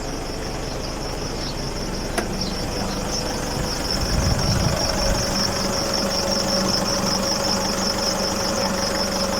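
A pickup truck engine idles close by while its air-conditioning compressor belt gives off a thin, continuous high squeal over the low rumble, which grows slightly rougher partway through.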